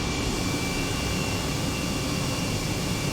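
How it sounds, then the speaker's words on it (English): An H135 helicopter flies over New York City in Microsoft Flight Simulator, giving a steady, loud engine and rotor drone that never lets up, with no talking. "And it's a cool little helicopter too."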